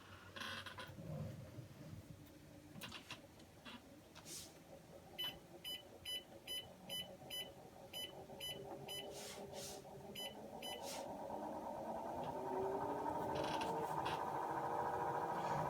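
A treadmill with a walking belt is sped up to 3 mph: a run of short electronic button beeps, then the motor and belt hum swelling steadily in pitch and loudness, with no talking.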